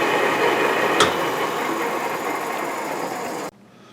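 A metal lathe takes a cut on a part for a shaper, giving a steady, dense mechanical whir close by with a single sharp tick partway through, before the noise drops off abruptly near the end.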